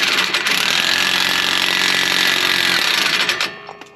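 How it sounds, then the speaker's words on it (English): An impact wrench works a car wheel stud on a 2013 Dodge Avenger, a loud, continuous rattling hammer close to the microphone for about three seconds before cutting off abruptly. "Back to the good old impact wrench."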